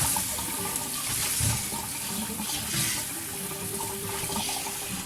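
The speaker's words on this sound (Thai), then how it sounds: "เราก็ เอากรองกับตะแกรงนะคะ แล้วก็ล้าง ล้างแป้งออกนะคะเพื่อนด้วยน้ำเย็นนะคะ" Cold water pours steadily from a tap over cooked rice noodles in a strainer for Thai boat noodle soup, giving a continuous close splashing rush with no talk.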